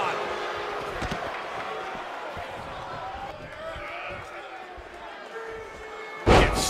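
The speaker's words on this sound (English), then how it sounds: "Get slammed down" Wrestler slammed onto the mat in WWE 2K23, Shawn Michaels vs. Niles Cassidy: one heavy, sharp impact near the end, after a stretch of quieter arena noise and commentary.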